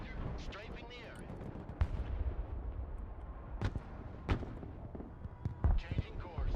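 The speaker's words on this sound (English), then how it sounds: "Roger, strafing the area." Aircraft strafing run in the war game Broken Arrow, with bursts of heavy gunfire and sharp impact cracks scattered over a dense rumbling battle din, while a voice talks over it.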